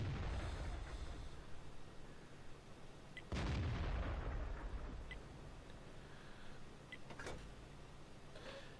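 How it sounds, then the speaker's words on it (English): Artillery fire in the World of Tanks game sounds as a few separate distant booms with sharp onsets and rumbling tails over a low, steady battle ambience, with no talking. "I hope the artillery hits that tank."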